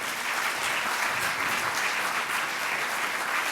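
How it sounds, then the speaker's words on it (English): A large audience applauds steadily at an evening activism award ceremony as a guest is called to the stage, a dense, even wash of clapping with no talk over it. "Je vais demander à Paul Watson de venir nous rejoindre sur cette scène sous vos applaudissements."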